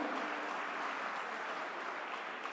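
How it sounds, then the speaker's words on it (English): Soft, continuous applause from an audience at a temple expo session, a steady even wash of many hands heard at a distance, fairly faint and without talk. "A big round of applause for all of you all for making it here."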